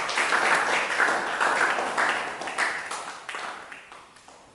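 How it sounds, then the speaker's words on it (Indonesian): An audience of classmates applauding in a classroom, a burst of close hand clapping that swells briefly and then tapers off. "beri aplaus untuk teman"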